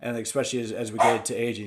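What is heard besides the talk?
dog barking at delivery guy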